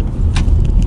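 A car engine fitted with a K&N air intake, revving in a short, loud burst of deep, steady rumble close by.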